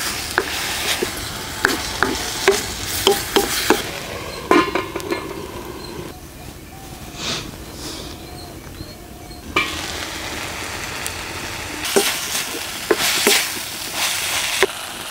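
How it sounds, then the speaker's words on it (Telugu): Cashews, ginger, garlic and tomatoes sizzling in a pan for a dhaba-style curry, with repeated scraping stirs and spoon clinks over a constant frying hiss, close and fairly loud. "జీడిపప్పు అల్లం వెల్లుల్లి వేసుకుందాం. ఇదంతా బాగా కలుపుకొని 5 నిమిషాల పాటు మూత పెట్టేసుకుందాం."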